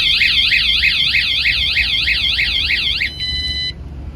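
A car alarm set off by a tap on the door handle blares loudly and up close, a rapid warbling siren that cycles steadily for about three seconds before switching to a short flat electronic tone and cutting off.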